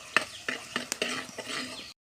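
Shallots, ginger and green chili are stirred in hot coconut oil in a pan over a wood-fired stove, with a close sizzle and several sharp scrapes and clinks of a utensil against the pan before a sudden stop.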